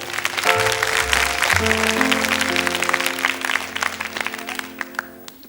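Studio audience at a French children's television show applauds a young performer, sustained dense clapping throughout while a sustained musical accompaniment plays underneath, tapering slightly toward the end.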